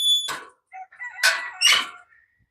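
Chickens being fed outdoors give a few loud, close squawking calls in short bursts with brief gaps between them; no one speaks.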